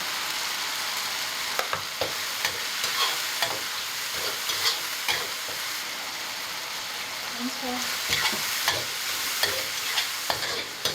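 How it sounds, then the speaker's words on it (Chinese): Marinated pork slices stir-fried in a wok, a steady close sizzle with scraping, clacking spatula strokes throughout, while a voice speaks intermittently over the cooking. "我们一般炒肉片儿、肉丝都会先把它燎起来"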